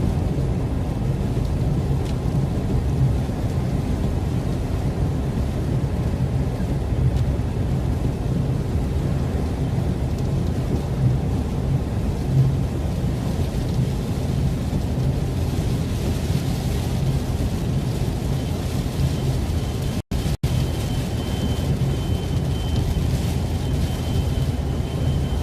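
Heavy rain pours steadily through a storm chase in Southern Virginia, a dense continuous roar with low rumbling that may be thunder, loud and unbroken throughout, with one sharp brief crack near the end.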